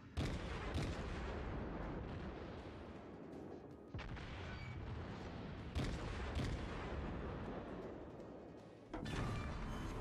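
Warship artillery fire in World of Warships, heavy booming salvos landing roughly every two to three seconds, each followed by a rumbling wash of battle noise, fairly quiet overall.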